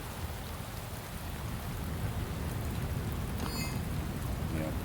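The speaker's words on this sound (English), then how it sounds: "Oh, it's raining again." Steady rain pours in the detective game Shadows of Doubt, a dense, even hiss that fills the whole stretch with no break, loud and close, with faint tonal game sounds briefly over it.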